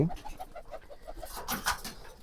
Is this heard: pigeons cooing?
yes